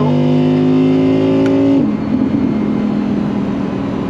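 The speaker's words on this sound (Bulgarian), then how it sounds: "И като дам газ" A 2021 Audi R8 V10 Spyder RWD engine revs hard with a rising harmonic whine for nearly two seconds, then abruptly drops into a rougher, lower rumble; loud and close, no talk.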